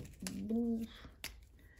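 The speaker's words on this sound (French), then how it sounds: "Est-ce que vous entendez les mouettes?" A harmonic seagull call rises briefly near the start in Paris, with short clicks and faint background noise around it; a gull-like cry, fairly close.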